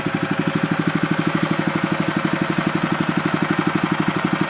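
A Billy Goat power rake dethatcher's small engine runs steadily at close range in top gear, with a fast, even chugging pulse and a rattling vibration from the blade rocking against the ground, no voices.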